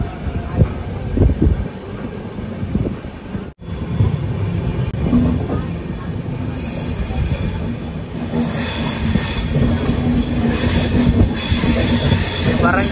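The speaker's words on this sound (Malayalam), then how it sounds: "വരങ്കൽ റെയിൽവേ സ്റ്റേഷനോട് അടുക്കുകയാണ്." Charminar Express train rolling into Warangal railway station, a steady loud rumble of wheels on rail with some wind across the microphone, a brief dropout early on, then continuous running noise.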